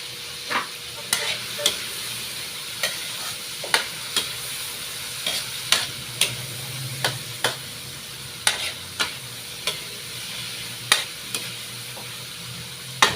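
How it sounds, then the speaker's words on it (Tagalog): Smoked fish (tinapa) frying and being stirred in a pan, a steady sizzle under repeated sharp scraping taps of the utensil at an irregular rhythm, close and continuous with no talking. "Ilagay natin itong ating tinapa."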